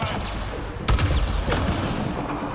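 An explosion in the sci-fi video game Mass Effect: Andromeda, a sudden booming burst that rises out of ongoing game noise and rumbles on over a dense, loud backdrop.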